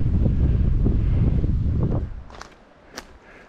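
Wind gusting on an outdoor trail on a cold day after the first fall snow, a loud broadband rush buffeting the microphone for about two seconds, then easing to a quieter breeze with a couple of brief rustles.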